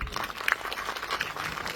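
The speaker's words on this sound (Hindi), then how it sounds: "उनके सम्मान में भी एक ताली बजा दीजिए" An audience applauds in honour of Aarti Rana, a short burst of dense, steady clapping from a crowd at a Nepal-India friendship association event.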